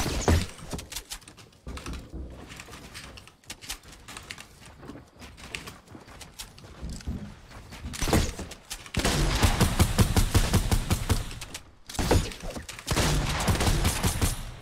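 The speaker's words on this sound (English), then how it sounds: "what you see on Lupo's screen is something called the shotgun" In a video game, a shotgun fires in a dense barrage of loud cracking blasts, with busy overlapping effects, growing heavier toward the end.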